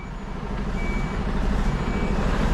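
A truck shunting trailers in a yard gives a steady series of high reversing beeps, loud and close, over the constant rumble of its engine.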